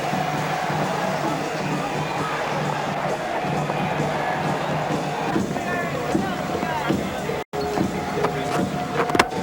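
A large crowd at a Test cricket match in Barbados cheers and roars as fans press toward the field, a broad sustained din of many voices with scattered whistles and shouts, while a commentator speaks over it.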